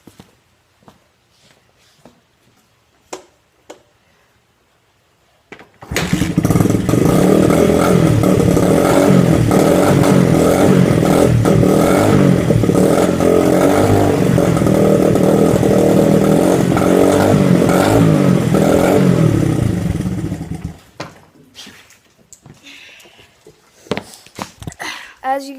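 A dirt bike engine, modified to run louder, roars into a sustained, loud, raspy rev for about fifteen seconds and then cuts off. Scattered clunks and shuffling come before and after it.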